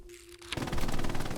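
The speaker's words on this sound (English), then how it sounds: "Gunfire can reveal enemy positions" A rapid burst of automatic gunfire in the video game Hell Let Loose, loud and continuous, following a brief electronic tone.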